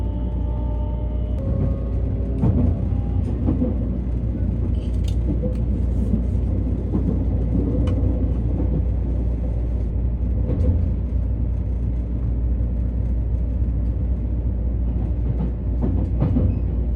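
A Raku Raku Yamato commuter limited express on the Nara–Osaka run rolls along with a steady, loud, close rumble of wheels on rail, punctuated by occasional clicks and rattles at track joints throughout.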